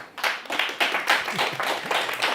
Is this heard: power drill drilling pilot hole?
no